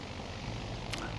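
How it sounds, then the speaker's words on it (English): In the World of Warships Legends naval game, the aircraft carrier Kaga launches bombers in quick succession, giving a faint, steady propeller-plane drone with a brief whoosh near the end. "she is able to launch a lot of bombers in very quick succession"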